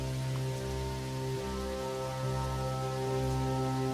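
Rain pours steadily over a pond-side vegetable plot, a continuous, even wash of falling drops at moderate loudness with a low hum running underneath and no speech.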